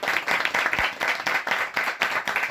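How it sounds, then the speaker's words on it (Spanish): An audience at a book presentation applauding, dense rapid clapping from many hands, loud and steady across the whole short stretch. "Un aplauso."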